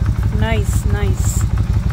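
Vulcan motorcycle engine idling nearby with a steady, pulsing low rumble while people talk over it.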